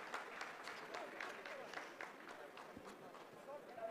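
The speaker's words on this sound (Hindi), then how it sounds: "आप इस तालियों के गड़गड़ाहट को सुन सकते हैं" Scientists in mission control break into a faint, continuous patter of applause after a landing phase of Chandrayaan 3, the clapping distant and partly under a commentator's talk.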